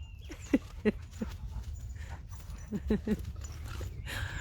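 Two dogs playing nearby, with a few short yips and grunts in two quick bursts over a low outdoor rumble.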